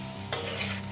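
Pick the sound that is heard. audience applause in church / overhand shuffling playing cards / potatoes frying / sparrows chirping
potatoes frying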